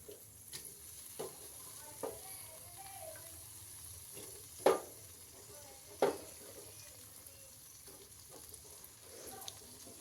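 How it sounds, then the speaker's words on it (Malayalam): Chopped tomato and onion sauté in hot oil for a fish curry, a faint steady sizzle broken by a few sharp spatula knocks against the pan, with no talking. "അതൊന്ന് നമ്മൾ ആ എണ്ണയിലൊന്ന് വഴറ്റി കൊടുക്കുക."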